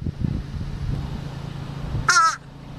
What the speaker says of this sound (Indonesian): jika ada burung gagak yang hinggap di genteng rumah dan berulang kali memekikkan suaranya